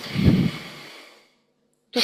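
A person takes one slow, deep breath that fades out over about a second, then there is silence and the start of another breath.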